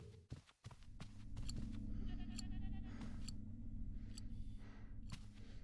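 A goat bleats inside a horror video game, a few thin wavering cries over a constant low ambient drone, with sharp clicks and knocks scattered throughout.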